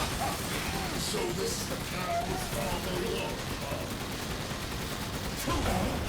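Video game gunfire in Resident Evil 8, a dense, continuous run of shots and mechanical clatter mixed with game sound and a voice.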